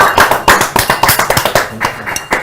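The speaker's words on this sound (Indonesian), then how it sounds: "tepuk tangan dong" A small group claps briefly to praise a student's gold medal from the West Java Provincial Sports Week, giving a quick burst of irregular, close, sharp hand claps for a couple of seconds.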